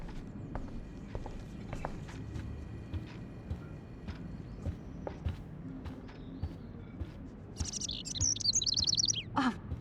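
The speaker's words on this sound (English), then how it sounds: "Can you help me get this bird out of here?" Bird chirps in the video game Life is Strange, faint scattered tweets over a busy game ambience of footsteps and clopping, then a louder burst of high chirping near the end.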